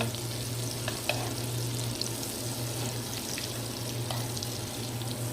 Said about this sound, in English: I got my fire on 2 because I don't want the butter to burn